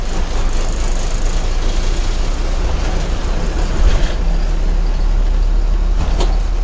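Steady low rumble and rattling road noise inside a moving passenger bus, continuous and close, with a couple of brief knocks along the way.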